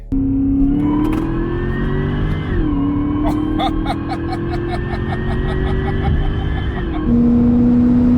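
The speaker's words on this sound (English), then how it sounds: "The supercharger whined like a little baby." A car engine with a steady high-pitched supercharger whine that rises and shifts through gear changes, loud and close, with faint voices underneath.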